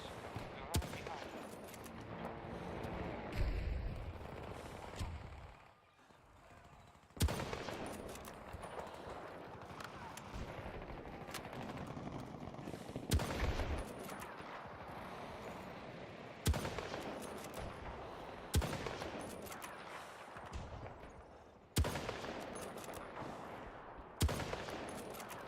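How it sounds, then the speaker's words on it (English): Guns fire in Battlefield 2042 in fairly quiet, distant-sounding bursts of shots that recur at intervals, with some talk now and then. "Those were terrible shots, I apologize."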